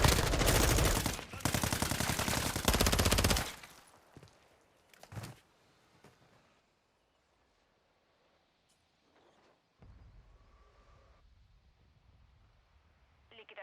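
Gunfire in the video game Warzone 2.0 comes as a loud, close burst of rapid automatic shots lasting a few seconds, followed by a couple of scattered single shots and then quiet in-game ambience.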